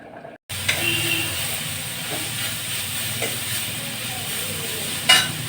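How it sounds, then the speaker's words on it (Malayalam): Onions sautéing in a pan in a village kitchen give a steady, close sizzle with occasional stirring scrapes and a brief clatter near the end, after a short silent gap at the start; no one talks. "ഞാൻ ഉള്ളിയൊക്കെ വഴറ്റുകയാണ്"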